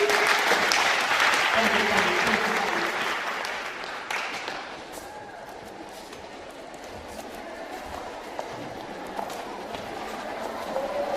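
A school audience at a Form One parents' induction in Kenya welcomes the head teacher with loud, sustained applause that gradually fades to a low murmur of scattered claps.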